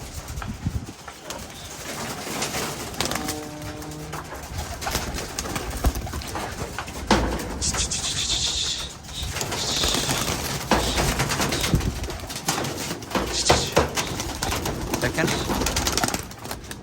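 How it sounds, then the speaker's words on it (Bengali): Domestic pigeons coo repeatedly amid bursts of wing flapping as they are flown in training in Bangladesh heat, with steady outdoor noise and occasional voices in the background. "কবুতর সেকেন্ড টাইম আবার উড়ানো হয়েছে"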